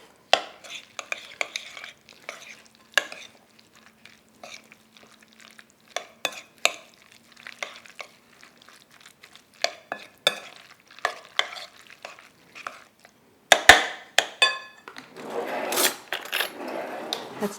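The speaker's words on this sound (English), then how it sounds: "now it's time to mix this all." German meat salad (Fleischsalat) being mixed in a bowl, a close series of irregular wet clicking and scraping stirs with louder squelching strokes toward the end, no talking.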